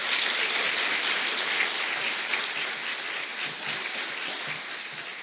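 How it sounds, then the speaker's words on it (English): At an awards ceremony, an audience claps for the honorees in a thick, continuous roar of many hands, sustained at a steady level for the whole five seconds with no voices on top. "Let's give a round of applause for both sets of our awardees."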